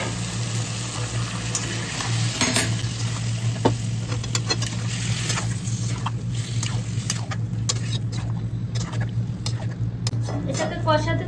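Mutton is sautéed and stirred in a pot over a steady low hum, with scattered scrapes and knocks from the spoon and a soft sizzle, while a voice talks now and then.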